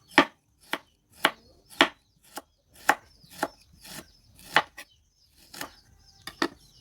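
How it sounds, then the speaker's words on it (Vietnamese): Knife chopping onion on a cutting board for a vegetarian shark-fin-style soup, about a dozen crisp, evenly spaced chops close up, with no talking. "Các bạn cứ sắc như thế cho đến hết cái phần củ hành của mình."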